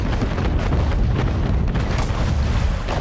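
Cannon fire rumbling in an Anno 1800 naval battle, a dense, continuous low booming roar with overlapping blasts, loud and steady throughout with no distinct gaps.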